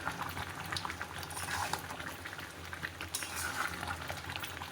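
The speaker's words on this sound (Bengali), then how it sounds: "মাঝে মাঝে এইভাবে নাড়া দিতে হবে।" Raw mango pickle cooking with about two kilos of sugar is stirred in a pot, a soft bubbling simmer with faint scraping and clinks of the spoon, quiet and steady throughout.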